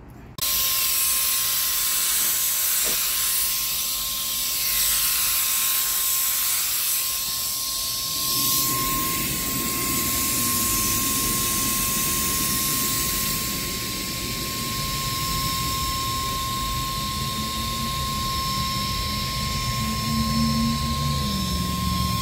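A spray gun lays a final sparkly colour-shift pearl top coat onto a car, giving a continuous close hiss of spraying air that carries on steadily with slight shifts in tone as the gun moves.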